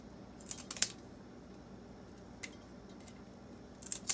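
Scissors snip through freshwater prawns, trimming off their legs, in a few quick crisp cuts near the start and end, with a lone snip in between against a quiet background.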